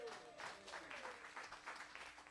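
Quiet applause from a festival audience at a cigar box guitar festival, thanking the sound crew; scattered clapping at a distance, faint and soft, with a brief trace of voice at the start.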